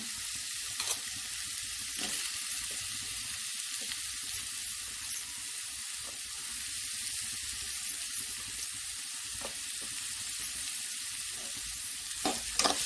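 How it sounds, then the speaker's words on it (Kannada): Tomato hits garlic and ginger already frying in a pan, and a steady, bright hiss of sizzling oil holds throughout, with faint pops and crackles and no voices. "ಇವಾಗ ನಾನು ಅದಕ್ಕೆ ಟೊಮೆಟೊವನ್ನು ಹಾಕ್ಕೊತೀನಿ."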